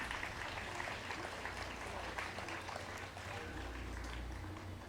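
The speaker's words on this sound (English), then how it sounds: "So you should give yourselves also a round of applause." Audience at a national STEAM fair applauding, a dense steady wash of clapping from a crowd, fairly distant and sustained throughout.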